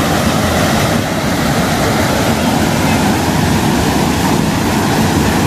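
Loud, continuous rushing river water at the confluence of two rivers in Dunav, a dense roar close by that stays steady throughout with no pauses.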